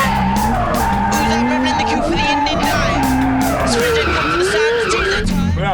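A Jaguar fitted with an SR20DET engine drifting at a drift event, its tires squealing in long wavering tones over a loud, revving engine, close and continuous.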